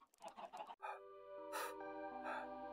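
Chickens in Minecraft clucking in short, bright, squawky calls, a few separate bursts that sound fairly close, alone with no voices.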